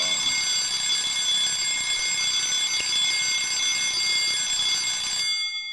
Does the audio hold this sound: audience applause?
no